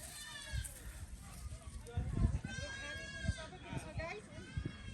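A goat bleats several times in short wavering cries amid a family kul puja gathering, with people talking and moving around close by throughout.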